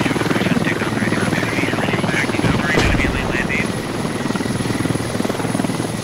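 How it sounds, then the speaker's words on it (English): A helicopter in the Squad video game comes in to land, its rotor chop loud and steady and close overhead for the whole stretch, with game noise mixed under it. "a fucking helicopter is about to land on me"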